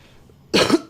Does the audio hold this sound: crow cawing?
no